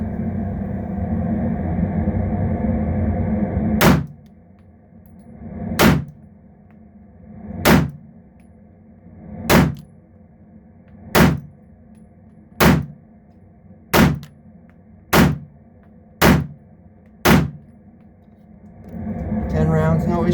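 A Kimber KDS9c 9mm pistol fires ten rounds of Federal ammunition, heard as ten sharp, loud reports at a steady, deliberate pace over a low background rumble.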